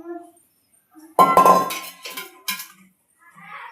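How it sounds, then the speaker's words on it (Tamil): A utensil taps a pan against a plate to knock the cooked food loose, giving a sharp clatter followed by a few lighter clinks and knocks, close and clear in a quiet kitchen. "இது அப்படியே இன்னொன்று பிளேட்டில் அப்படியே தட்டினீங்கன்னா தானாகவே விழுந்துருங்க"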